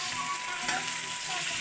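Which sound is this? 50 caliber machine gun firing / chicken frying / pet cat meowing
chicken frying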